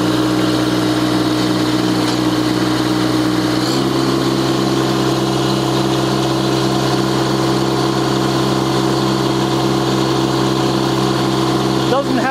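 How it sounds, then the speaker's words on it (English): A Kubota B Series tractor engine runs with a Land Pride SA20 post hole digger fitted, a loud, steady mechanical drone with a brief shift in pitch partway through. A voice comes in near the end. "let's go ahead and start up the tractor, and we're going to lower the auger into the ground."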